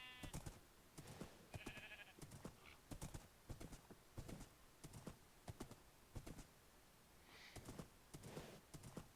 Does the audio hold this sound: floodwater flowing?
no